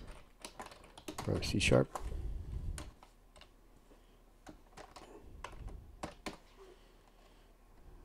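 Computer keyboard keys clicking in scattered, irregular taps while someone codes in C# for AutoCAD, the clatter close and fairly quiet, with a stretch of speech over part of it.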